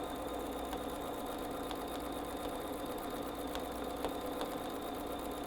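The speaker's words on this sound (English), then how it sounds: "I am regulating how big the stitches are by how fast I'm going and how fast I'm moving this." A sewing machine stitching fabric for a tabletop tree project, running as a steady continuous mechanical whir at moderate level with faint periodic clicks, no voices.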